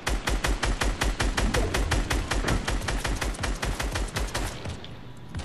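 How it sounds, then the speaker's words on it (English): Rapid automatic gunfire from the video game Fortnite rattles in a steady, loud burst of evenly spaced shots, continuing for several seconds before trailing off near the end. "Should I shoot these fuckers?"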